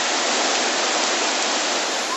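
Floodwater in southern France rushes in a loud, dense, unbroken roar, like a torrent pouring close by, steady from start to finish with no distinct voices.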